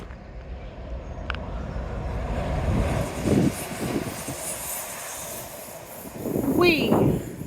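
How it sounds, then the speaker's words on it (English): A train rolls past along the seafront at Teignmouth, a steady broad rumble with wheel squeals and a faint horn-like tone, heard beside wind and open-air ambience, and a voice speaks briefly over it. "Here comes a train."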